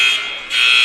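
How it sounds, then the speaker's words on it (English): A basketball game buzzer at a men's college game sounds as a loud, harsh, sustained blast that dips briefly in the middle before resuming. "Hey, stop it, buzzer."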